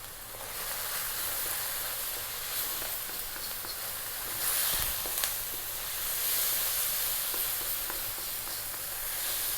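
Chili powder, turmeric and black pepper sizzle in a hot pan for a Bengali river-style carp fish curry, a steady, moderately quiet frying hiss with brief crackles.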